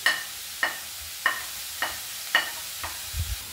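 A soft, steady sizzle of frying in ghee for veg dal, punctuated by regular sharp taps of a spoon stirring against the pan, about every half second.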